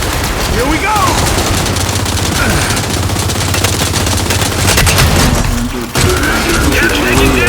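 Rapid, dense gunfire rattles through a Gears 5 Horde match, a loud, relentless barrage with booms and impacts mixed in, while players talk over the shooting.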